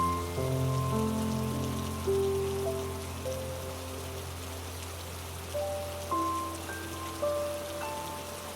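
Steady rain patters softly throughout, mixed with sustained musical tones that shift pitch now and then.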